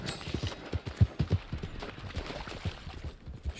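Horse hooves clip-clop in Red Dead Online, a quick series of near, distinct thuds over faint background sound.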